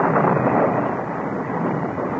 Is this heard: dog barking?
no